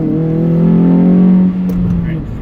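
A Scion tC with an ECU flash tune revs hard toward 7,000 RPM, a loud, close engine note rising steadily as it accelerates, then easing slightly near the end.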